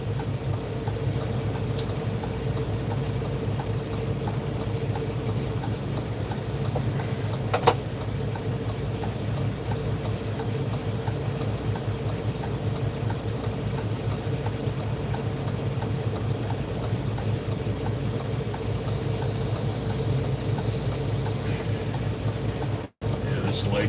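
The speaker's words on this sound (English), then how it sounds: "Train full of carrots." A freight train loaded with carrots rolls past a truck on the road, its steady rumble and rhythmic clicking of the wagons running evenly and continuously, heard over a constant low cab drone.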